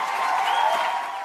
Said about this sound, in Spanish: Los aplausos me hacen sentir famoso.